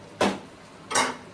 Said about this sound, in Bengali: আচ্ছা এবার এটা একটু ঢাকা দিয়ে দেবো